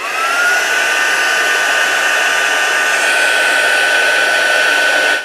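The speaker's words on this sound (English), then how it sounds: "let's just get my heat gun warm again. I'm just going to emboss this" A heat gun blows hot air to melt Distress embossing glaze, a loud, constant close-up whoosh with a steady high whine that runs unbroken until it cuts off.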